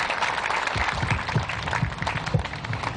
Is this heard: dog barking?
no